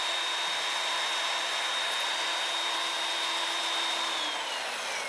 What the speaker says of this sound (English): Then I pulled the inner piece out 2 inches and drilled through the same hole again.